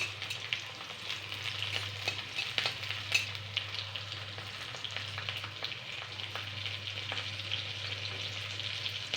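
Chopped fresh green chillies frying in hot oil in a pan, a soft continuous sizzle with scattered small pops and crackles over a low steady hum, moderately faint and close, no voices.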